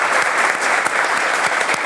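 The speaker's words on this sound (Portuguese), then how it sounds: "Pode aplaudir, meu. Pode aplaudir." Audience applause at a Catholic religious broadcast, a dense steady wash of many hands clapping, fairly loud and continuous throughout with no voices over it.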